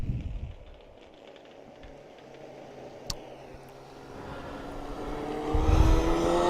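Bandolero race cars run at a New Hampshire track, engines droning at a distance, then swelling louder as cars approach and rev past near the end, with a sharp click partway through.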